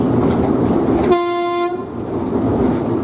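A locomotive horn gives a short, loud toot over a steady engine rumble, which carries on after the horn stops.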